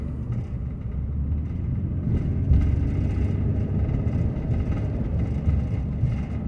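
A car drives through a residential neighborhood. A low, steady engine and road rumble continues throughout at moderate loudness, with no one speaking.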